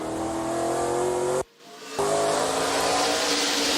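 ARCA Menards Series race cars roaring around the oval at Elko Speedway, a loud sustained multi-engine whine under acceleration, cut by a brief half-second dropout before the roar resumes.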